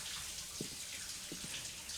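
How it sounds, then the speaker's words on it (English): Water runs down a bathtub drain in the shower scene of Psycho, a steady rushing hiss with a few gurgles and drips, alone without voices. "that transition with the water going down the drain"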